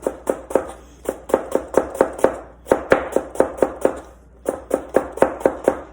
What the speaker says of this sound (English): We're gonna slice it up